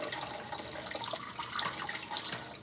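Tap water runs steadily over canned beans being rinsed in a kitchen sink, a soft continuous splashing hiss, fairly quiet and close, with no talking.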